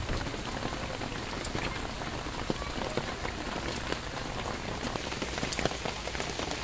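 Steady rain falls in a dense, even hiss, with scattered drops pattering close by on surfaces as the crops stand green in cool weather.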